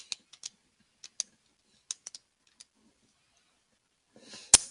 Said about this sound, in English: Just going to type in my calculator.